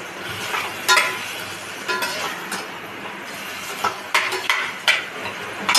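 Whole masoor lentils stir-fried in masala in a pan, a soft sizzle with irregular scraping and rattling bursts as the spatula turns them, fairly close and free of talk.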